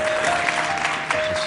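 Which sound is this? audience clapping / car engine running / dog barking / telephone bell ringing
audience clapping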